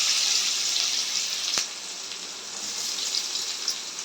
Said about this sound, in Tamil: வெங்காயம் சேர்த்து நல்லா வதக்கி விடலாம்.